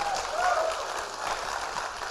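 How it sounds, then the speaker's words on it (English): Church audience clapping and shouting in a dense, steady wash of applause and cheers that holds at an even level throughout, with voices blending into the noise. "Somebody clap your hands and shout."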